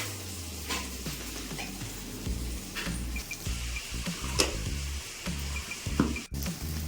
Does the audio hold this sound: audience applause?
no